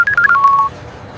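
Telephone keypad tones beep in a quick series of short, loud dialing notes, then fall to a faint background hush.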